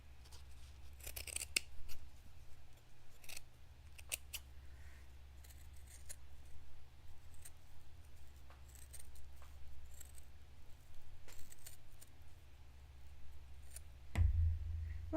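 Scissors snip apart pins glued to a sheet for a miniature townscape costume piece, a scattering of faint, quick cuts and light clicks at close range, with a low steady hum underneath.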